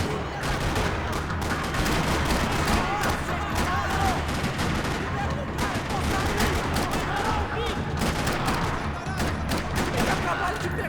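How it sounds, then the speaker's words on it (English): Dense, continuous gunfire rattles without pause through a parking lot in the Max Payne 3 video game, loud and close, with rapid automatic bursts and voices shouting underneath. "Another parking lot rattling with gunfire."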